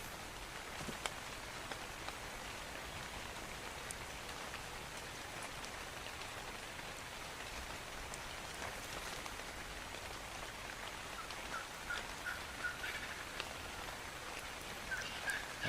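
Steady rain falls in a foggy outdoor spot near a river, a dense, even patter of drops with occasional sharper drips close by, continuous and moderately quiet with no talking.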